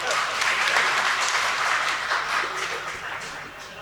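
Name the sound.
audience applause at mushaira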